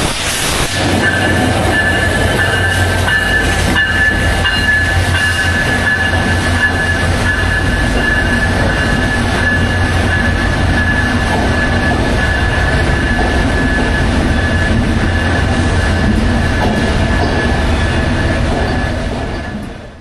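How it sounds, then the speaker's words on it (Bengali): The Padma Express intercity train from Rajshahi pulls into a station at night, a loud, continuous rumble of carriages and wheels on rails with a steady high squeal running throughout and no voices. "পদ্মা এক্সপ্রেস চলে আসলো রাজশাহী থেকে"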